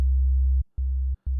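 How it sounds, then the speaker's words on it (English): Synthesizer tone of three sine wave oscillators combined into one, a pure low steady hum played as three held notes separated by brief silences, loud and clean. "So what this did was it put all the 3 sine waves into a single one, so it has a little bit more energy"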